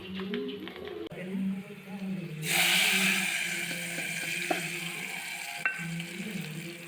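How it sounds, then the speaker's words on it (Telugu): Tempering (tadka) for tamarind leaf dal hits the hot pan and bursts into a loud, close, broadband sizzle partway through, which then settles into steady frying, with birds cooing in the background. "మీలో ఎవరైనా తాలింపు స్మెల్ కానీ తాలింపు సౌండ్ కానీ ఇష్టమా?"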